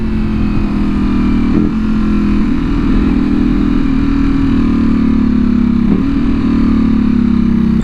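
Loud, close V4R motorcycle engine with a booming exhaust holds a steady deep drone, with a couple of brief throttle blips and no talking.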